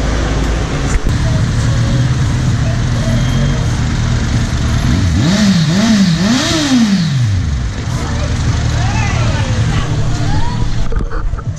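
A tuk tuk engine on a busy Pattaya street at night revs up hard in a few rising and falling surges, loud and close, over steady traffic rumble and crowd babble.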